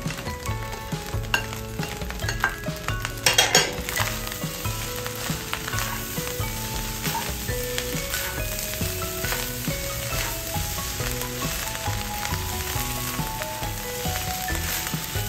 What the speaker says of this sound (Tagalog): ilagay na natin yung ating itlog